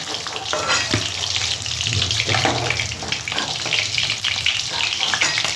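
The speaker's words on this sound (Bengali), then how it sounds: "আমি এরকম লাল লাল করে ভেজে নিলাম একদম মাছটা" Fish frying in oil in a pan, a dense continuous sizzle and crackle with small spattering pops, close and fairly loud, with no talk.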